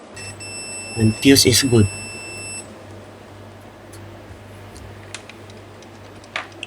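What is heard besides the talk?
digital multimeter beeping in continuity mode on fuse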